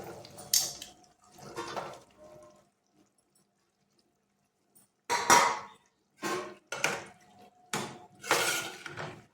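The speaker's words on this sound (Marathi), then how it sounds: "आता आपण यात हे बघा वाटाणे टाकूया।" Peas are tipped into a pot of cooking potatoes in a home kitchen, with bursts of clattering and rattling against the vessel, several short scrapes and clinks separated by brief quiet gaps.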